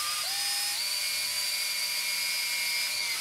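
A drill bit bores a hole into metal, giving a steady, high-pitched whine that dips slightly in pitch at the start and then holds constant and loud throughout, with no talking.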